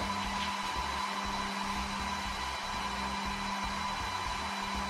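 Photo printers run continuously while printing sheets of school photos, giving a steady, dense mechanical whir with a low hum and no pauses or voices.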